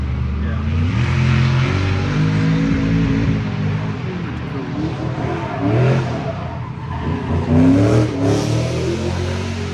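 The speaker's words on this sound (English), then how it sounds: "That car's loud." A loud drift car's engine revs and roars during a first drifting attempt, droning steadily with surges in pitch, while people talk nearby over the noise.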